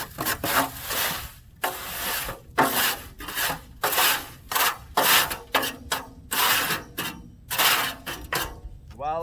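Wet concrete for a driveway is scraped and spread by hand: a rhythmic series of gritty rasping strokes, about a dozen in quick succession, close and moderately loud.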